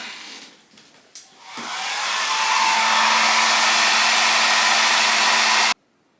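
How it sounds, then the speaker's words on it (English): A hair dryer starts after a few faint knocks, ramping up to a loud steady whoosh with a faint hum as it dries paint on a wine glass, then cuts off abruptly. "now I hit that with a hairdryer no longer than 30 seconds"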